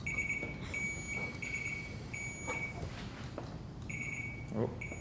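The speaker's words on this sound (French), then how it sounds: "On va essayer les buzzers pour être sûr qu'ils fonctionnent encore." Electronic quiz buzzers sound in a room during a symposium quiz, short high-pitched beeps repeating in separate bursts of varying length, with faint background talk and shuffling between them.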